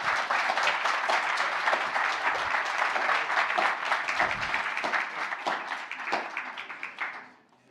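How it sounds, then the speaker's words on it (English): Sustained audience applause at a culture and creativity forum in London, a dense steady clatter of many hands that runs loud throughout, then tapers off and fades out at the end. "Let's give him a massive round of applause."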